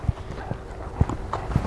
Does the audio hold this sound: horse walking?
yes